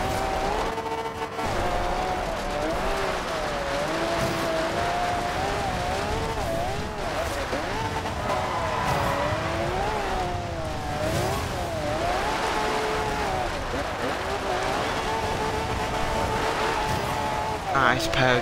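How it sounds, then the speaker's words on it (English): A 1998 Toyota Supra RZ drifts through Forza Horizon 2, its engine wailing and pitching up and down continuously while tires squeal, loud and close, with a voice talking over it. "Nice pair of drifts there."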